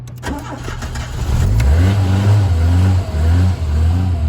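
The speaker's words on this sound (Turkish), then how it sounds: "Araba tek başta sabah bakın tek başta çalıştı." A Renault 9 Spring engine with a faulty gas tank setting cranks briefly on a morning start, catches and starts, then settles into a loud, steady idle with slight dips in revs.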